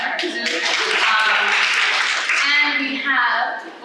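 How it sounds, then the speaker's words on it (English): An audience claps in a brief burst of scattered applause that fades quickly, with speech mixed in. "Let's clap for her too."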